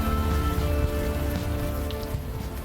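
Steady rain falls on a night scene in the video game Unavowed, a dense continuous patter throughout with a low hum beneath and no speech.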